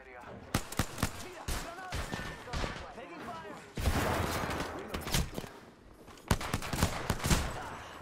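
Gunfire in the Apex Legends video game, sharp single shots and short bursts at varying distances, some close and loud, with a player talking in between.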